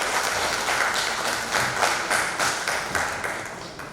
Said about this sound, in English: If you think he deserves a big round of applause,